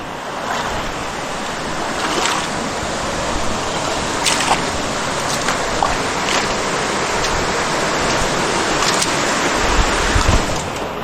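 A clear river flows nearby with a steady, dense rushing that barely varies, broken now and then by soft wind buffeting against the microphone, with no one talking.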